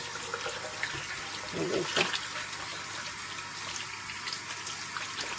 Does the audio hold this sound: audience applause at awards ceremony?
no